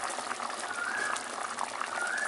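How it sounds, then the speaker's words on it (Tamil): Stingray fish curry boils steadily in a pot, a continuous soft bubbling hiss with small pops, close and moderately quiet, without speech. "நல்லா கொதி வந்துருச்சு."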